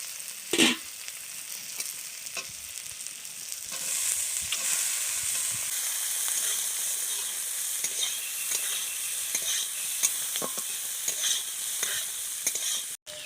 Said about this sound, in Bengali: এবার আমি গুগলিটা তুলে দেবো।